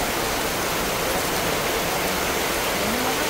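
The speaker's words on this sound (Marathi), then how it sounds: "पावसाची सुरुवातच झाली" Rain begins falling outdoors in the Konkan region as a dense, steady hiss that fills everything evenly, loud and unbroken with no voices.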